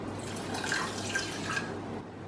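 Water trickles and drips into a saucepan of sugar being readied for syrup, a soft close splashing pour that fades out near the end.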